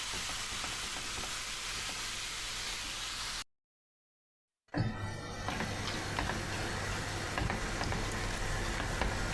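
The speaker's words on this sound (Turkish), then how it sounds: "Güzel bir kavuracağım. Kendi suyunu çeksin. Isıttım tavama koydum." Chicken pieces sizzle steadily in a hot frying pan with a dense crackling hiss, briefly cut to silence before the frying resumes.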